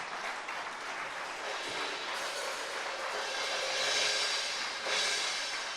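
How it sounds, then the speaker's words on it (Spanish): A church congregation applauds in a sustained, dense wash of clapping that swells slightly toward the end, heard from within a large room, with a few cheers mixed in. "denle un aplauso fuerte."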